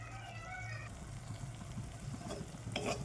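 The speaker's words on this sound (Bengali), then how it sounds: "জোরটা কমিয়ে মশলাটা কষবেন, দেখুন আস্তে আস্তে ফুটছে।" Masala for an oily tilapia curry fries on low heat in a pan, giving a faint, steady sizzle and soft bubbling, with a brief stirring scrape near the end and no talking.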